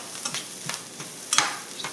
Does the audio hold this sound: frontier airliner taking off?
no